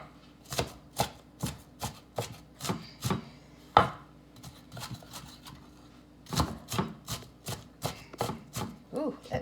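A knife chops a strong onion on a cutting board in a home kitchen: a series of sharp, close, rhythmic thwacks in quick bursts, with a short pause midway before the steady chopping resumes.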